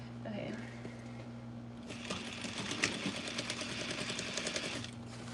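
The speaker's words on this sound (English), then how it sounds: "I'm going to sew it, but I need to understitch my waistband first." A sewing machine understitching a fabric waistband starts after a quiet moment and keeps up a steady, close mechanical whir with a rapid stitching rhythm for several seconds.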